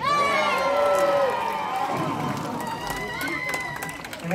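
An audience at a UK safari park sea lion show cheers and shouts loudly together, with children's voices rising above the crowd, then the noise fades into scattered claps and chatter.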